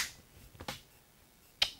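A few sharp hand claps at a video shoot, probably meant for syncing sound. Two quick close claps come first, and after a pause a single louder, crisp clap follows, all in a quiet room.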